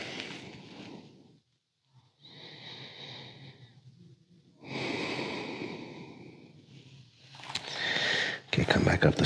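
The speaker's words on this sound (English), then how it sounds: "Make sure you keep breathing the whole time." Heavy, audible breaths come in long, loud inhales and exhales with short pauses between them during a post leg day recovery yoga stretch, close to the microphone.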